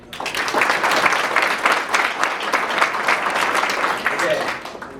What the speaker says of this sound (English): I would appreciate it if you replied with a hearty round of applause